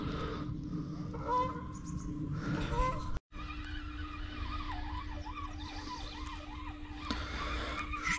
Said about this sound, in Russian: Гуси пролетают.